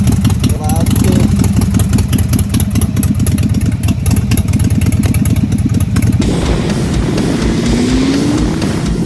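A loud motorcycle engine idles close by with a steady, throbbing rumble, then settles into a lower, rougher tone partway through. People talk over it.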